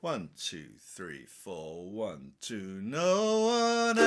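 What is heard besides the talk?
No everyday noises stand out.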